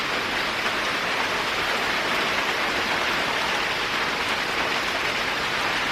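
Steady summer rain falling over a residential neighborhood, a dense even hiss of drops on surfaces that continues without a break.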